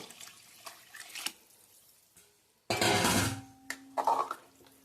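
A few soft drips and clinks, then a loud burst of water, two glasses, pouring into a pot of carrot rice for about a second, followed by faint splashes.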